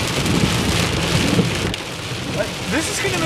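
Heavy rain pours down steadily in a storm, a loud dense hiss throughout with a brief lull partway, close to the microphone with no talking.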